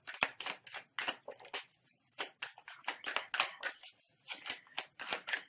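Tarot cards are shuffled and drawn close up in a quick run of crisp riffling and slapping bursts, each short and sharp with brief gaps between.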